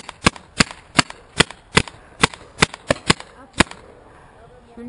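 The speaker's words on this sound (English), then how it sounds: "They're shooting through the window." Gunfire in the video game Tiberius T15: about ten sharp, evenly spaced shots crack in a steady rhythm, fairly loud and close, over a low background.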